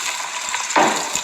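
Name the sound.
onion frying in oil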